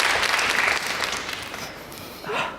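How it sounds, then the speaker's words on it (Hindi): A studio audience applauds a guest during a talk-show interview, dense clapping that thins out over a couple of seconds before a voice comes in. "तालियां भाई शेजल के लिए यार"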